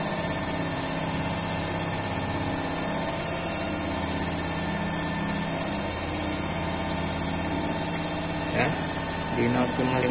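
A DC compound motor on a TERCO lab test bench runs at about 1400 rpm on a 78-volt input, giving a steady, loud, unbroken mechanical hum with tonal whine and a few faint clicks near the end.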